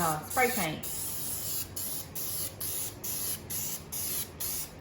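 A voice speaks briefly, then an aerosol can of sealant sprays in short hissing bursts, five or six in a steady rhythm, close and even.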